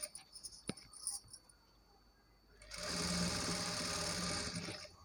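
A sewing machine stitches a fall onto a saree, starting after a few quiet clicks and handling taps, then running in a loud, steady whirring rattle for the last couple of seconds.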